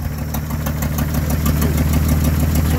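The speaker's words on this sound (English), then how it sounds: "232 flathead Chrysler 6." A 1947 Dodge with a 232 flathead Chrysler six idles on a cold start, a steady close low rumble with even firing pulses and no talking.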